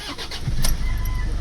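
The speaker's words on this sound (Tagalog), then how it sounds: "Ibalik natin ignition on. Ayan, engine start." A Toyota Innova engine cranks and catches, then settles into a steady close idle that lasts about a second and a half.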